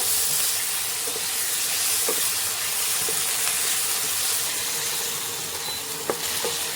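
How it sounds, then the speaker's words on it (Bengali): Jackfruit mixture with cumin powder stir-fried in a pan for a green tomato poppy-seed dish: a steady, close sizzle and hiss with a few sharp spatula clinks against the pan. "এবার জিরে গুঁড়ো দিয়ে সব কিছু একটু ভালো করে কষিয়ে নেব।"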